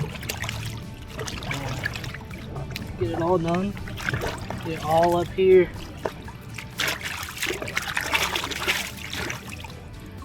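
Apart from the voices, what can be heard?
water trickling while rinsing hands with fisherman hand scrub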